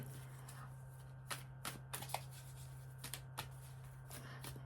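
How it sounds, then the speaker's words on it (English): Moonology oracle cards are shuffled in repeated quick riffling bursts at close range, with soft rubbing between the snaps against a steady low hum, and no voices. "I'm going to shuffle"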